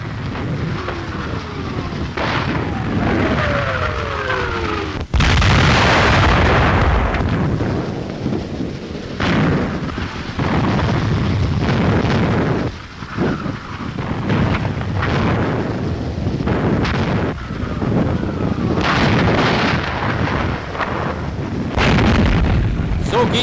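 Enemy artillery fire strikes near a river crossing on the Kuban front in 1942, with repeated heavy booming blasts and rumbling impacts in an old, noisy newsreel track that runs with hardly any quiet gap.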